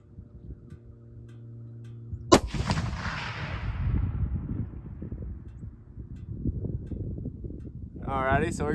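A single loud rifle shot from a Remington 700 with a Leupold 3x9 scope, firing a 150 grain Remington Core-Lokt bullet at target practice outdoors, a sharp crack followed by a decaying echo over steady wind and low background noise.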